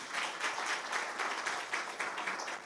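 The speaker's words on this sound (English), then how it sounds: "another round of applause for them" An audience at a public lecture gives a short round of applause, a moderate, fairly even patter of many hands that holds steady from start to finish.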